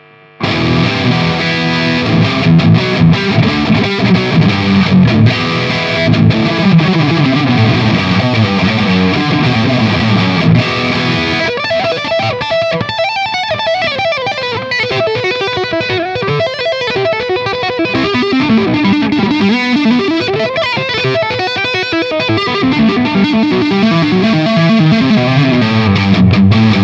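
Distorted electric guitar from a Vintage Thomas Blug Signature Stratocaster-style guitar plays continuously, thick and loud, shifting from chunky chords to a brighter, wavering lead tone with effects.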